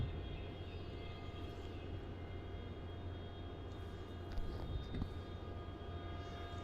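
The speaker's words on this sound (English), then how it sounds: "Oh, yep, there's a 717." A Qantas Link Boeing 717 airliner landing at Melbourne Airport makes a steady, distant jet drone with a faint whine, swelling slightly near the end.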